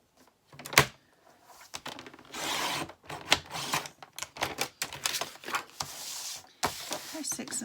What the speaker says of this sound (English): 2 sheets of card, and we're going to cut them at 8